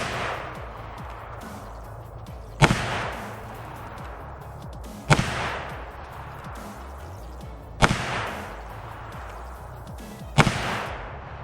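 Four loud Smith & Wesson 460 revolver shots fired at a zombie target on an outdoor range, each sharp blast spaced a few seconds apart with a short ringing decay and steady background hiss between.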